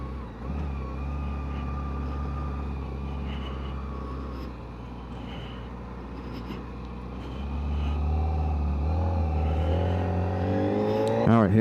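Engine of a new 2025 Kawasaki ZX4RR sport motorcycle running steadily on a first ride, then building in pitch near the end as it accelerates, with a person talking over it.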